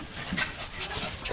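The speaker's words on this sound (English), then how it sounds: "Look at these dogs." A dog that has just given birth pants in quick, breathy rhythm close by, with a faint whimper mixed in, over a brief moment without talk.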